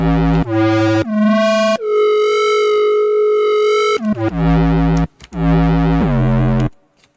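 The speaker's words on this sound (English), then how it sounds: "the lower note, the slower the oscillation of the synth goes" A Reese bass synthesizer patch played in an M8 production session, holding low notes whose detuned oscillation slows as the pitch drops, with several sustained tones shifting pitch, loud and alone.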